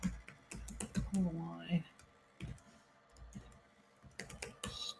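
Rapid keyboard typing while Java code is written, bursts of clicky keystrokes running intermittently beneath steady spoken narration.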